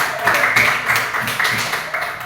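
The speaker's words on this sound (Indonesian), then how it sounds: "Berikan tepuk tangan untuk kelompok 2." A classroom group of students claps for group 2, with a short burst of rhythmic, fairly loud applause close by.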